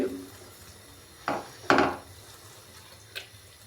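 Milk poured into bread roasted in ghee for halwa in a pan, heard as a brief soft splash followed by two louder scraping, sloshing stirs and a faint clink, close with no talk.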